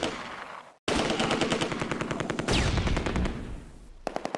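A .30 cal machine gun firing in the Close Combat: A Bridge Too Far war game, with long rapid bursts of loud, closely spaced shots, a brief silent gap near the start and scattered single rounds trailing off at the end.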